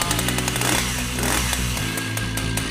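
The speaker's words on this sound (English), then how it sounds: "now that I showed you about the chainsaw and the bar, to start it up" A Husqvarna 555 chainsaw engine starting and running loud and close, a steady buzzing drone with a slight rise and fall in revving.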